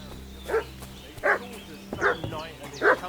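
A dog in the video game Kingdom Come: Deliverance II barks four times at a steady pace, loud and close, over a low background hum.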